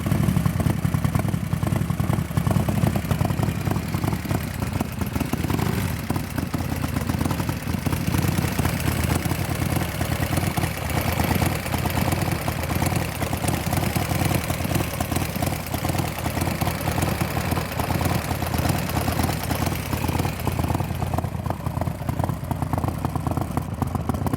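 A Harley-Davidson Sportster XXL with a 1883cc, 116 cubic inch engine idles cold, giving a steady, dense, loud mechanical rumble with faint clatter that runs unbroken throughout.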